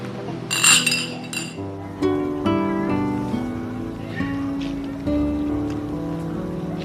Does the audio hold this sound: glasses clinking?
yes